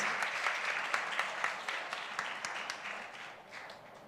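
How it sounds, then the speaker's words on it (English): Audience applause at an ISKCON Chetana Festival gathering: a steady wash of many hands clapping, dense and even across the whole stretch, with scattered sharper claps standing out. "round of applause for both the beautiful girls"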